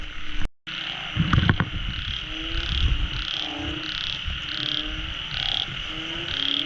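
Kaloula frogs croak at night in a steady run of evenly spaced calls, with a persistent high insect-like trill beneath and a sharp click near the start.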